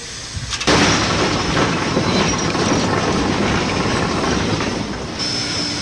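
A diesel-electric train rumbles steadily along the rails, loud and close, with dense rattling and a faint high squeal near the end.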